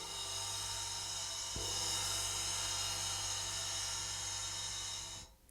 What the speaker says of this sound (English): when I play the cymbal by itself